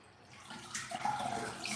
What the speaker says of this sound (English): The other scarf is gently dripping into the bathtub.